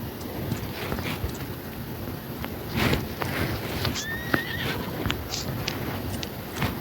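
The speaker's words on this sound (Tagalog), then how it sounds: "Naipit ako sa dalawang kabayo." In PUBG Mobile, horses whinny and clop nearby as the player rides, rapid hoof clip-clops running throughout with a shrill neigh midway, set against windy outdoor noise.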